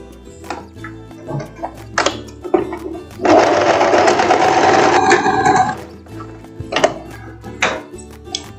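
A sewing machine runs in one steady burst of about two and a half seconds while stitching a short lace dress, set between quieter handling noises and light clatter.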